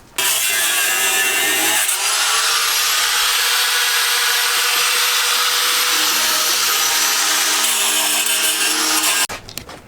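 An abrasive cut-off wheel grinds through a bolt during a B20 VTEC engine swap on a 1993 Honda del Sol, a loud, steady, high-pitched screech held for about seven seconds, then cutting out abruptly.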